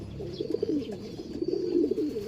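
White-bodied racing pigeons coo softly and repeatedly while being fed before basketing, with low throaty calls overlapping in a close, steady murmur.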